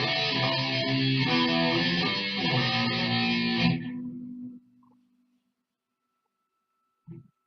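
An electric guitar played through effects such as distortion and chorus runs through a short bridge riff, sustained and fairly loud, then rings out and fades to silence after about four seconds, with a faint bump near the end.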